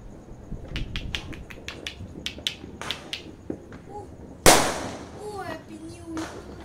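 New Year's Eve firecrackers and fireworks go off in a quick series of sharp cracks, then a single loud, close bang rings out, followed by whistling bursts and scattered pops fading into the night.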